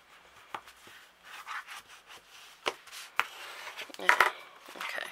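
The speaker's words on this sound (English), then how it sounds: "And again, burnish. Make sure it's all nicely stuck down." Paper pages of a handmade mini album being burnished down by hand, giving quiet intermittent rubbing and scraping strokes with a few sharper taps, close up and soft.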